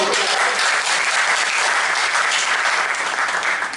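An audience at a poetry gathering in Roorkee gives loud applause in honour of Vinay Pratap, a dense, continuous wash of many hands clapping that holds steady for a few seconds.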